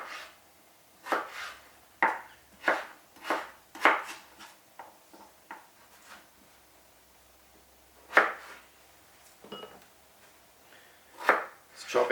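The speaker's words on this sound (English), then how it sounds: "Just chopping out some of the" A knife chops on a cutting board in irregular bursts of sharp taps, some clustered and some spaced apart, close and moderately loud, with no talking.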